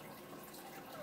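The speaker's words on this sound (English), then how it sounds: "at night, you can hear the water of the fish tank" Quiet, steady trickle of aquarium water running through a tropical fish tank filter, a soft continuous wash with gentle bubbling and no voices.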